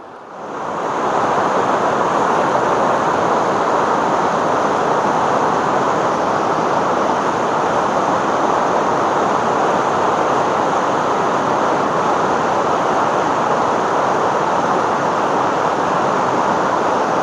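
Glacial meltwater stream in Bagrot Valley, fed by the glacier below Bilchar Dobani peak, rushes in a loud, constant broadband roar with no break and no voices.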